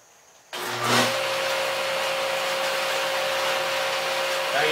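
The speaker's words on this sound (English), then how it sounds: "So I'm going to turn the table saw on." A table saw starts up alongside a dust collection system, an abrupt switch-on that ramps into a steady loud broadband roar and motor whine that holds close and constant throughout, with no talking.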